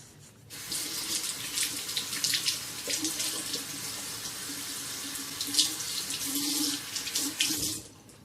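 Tap water runs steadily into a sink during a wet shave with a Muhle R41 safety razor, a close continuous splashing stream with small surges, starting and stopping cleanly.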